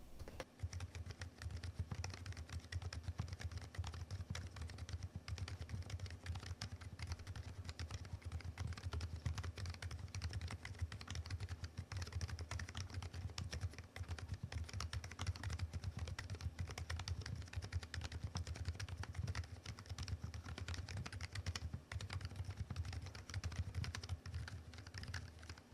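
Steady typing on a COX CMK63R low-noise magnetic-switch gaming keyboard, soft muffled keystrokes in a continuous close rhythm with a low background hum, no voices.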